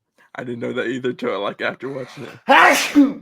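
A person talks, then one loud, sharp sneeze bursts out near the end.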